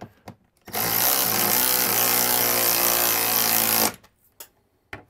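A power tool runs in one steady, loud burst of about three seconds while tightening the mounting plate of a Furrion Chill HE RV air conditioner on a roof, with brief clicks before and after.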